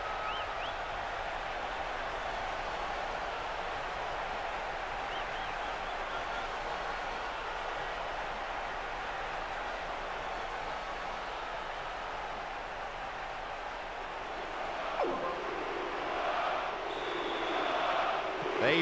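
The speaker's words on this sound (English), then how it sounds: "That strike has just brought so much excitement and cheering" A stadium crowd roars and cheers steadily after a goal in the football video game PES 2009 during a Portugal vs Switzerland match, a dense wash of noise that swells toward the end, with commentary talk over it.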